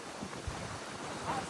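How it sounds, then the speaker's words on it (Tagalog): Strong wind blowing outdoors while walking in Taiwan, a steady broadband rushing roar buffeting the microphone with a few low thumps, continuous and fairly loud throughout. "Sobrang hangin."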